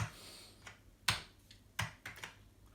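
Several sharp, sparse key clicks from an Amiga 1200 computer keyboard sound up close in a quiet room, a few louder strikes scattered among softer taps.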